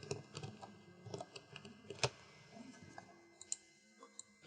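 Keys tapped on a computer keyboard while working in Adobe Flash CS6, a quick run of light, sharp clicks with one louder press near the middle, close and alone.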